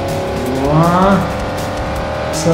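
A race car in the Forza Motorsport 4 video game accelerates with a rising engine whine and then brakes, its tires squealing, all loud and close.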